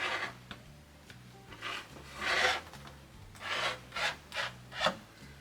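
Repeated rasping strokes of a blade cutting a long strip of material for a vintage kitchen eat-in corner, in uneven bursts over a steady low hum, moderately close.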